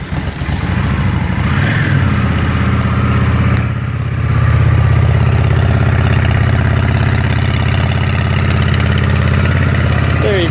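A 2011 Yamaha V Star 650 motorcycle on factory pipes cranks, catches and settles into a mellow, steady idle, a low rumbling throb heard close and loud with some voice underneath.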